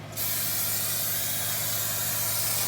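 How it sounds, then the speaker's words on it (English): Cooking spray hisses continuously onto a baking pan, loud and close, starting abruptly and holding steadily without a break. "we're gonna go ahead and spray our pan."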